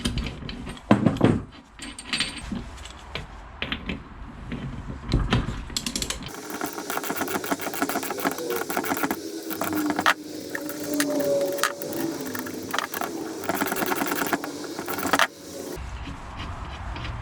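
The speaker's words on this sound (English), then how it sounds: "At the moment, I'm not actually pulling the Layshaft in, I'm just pushing the cone on." Metal parts clink and scrape on a bench as a cone is pushed onto the layshaft of a Lambretta LI 125 Series 3 gearbox, with jangling knocks at first and then a sustained grinding, ratcheting mechanical rasp.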